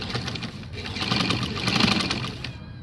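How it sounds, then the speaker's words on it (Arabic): A sewing machine runs steadily while stitching old jeans, a close, continuous mechanical whir with a light rhythmic chatter that swells slightly midway and cuts off near the end. "دلوقتي بقى احنا كده هنخيط مع بعض"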